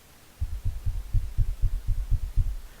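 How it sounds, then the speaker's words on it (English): Soft, regular tapping on the mesh of a pop filter near a microphone, picked up as a series of dull low thumps in a steady rhythm, close and fairly quiet, with no talk. "when I'm tapping on the pop filter, it actually registers on the mic"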